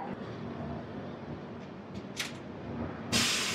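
Train 12868 pulls out of Tiruvannamalai station with a low steady rumble and hiss throughout, brief squeaks, and a sharp loud burst of hiss near the end.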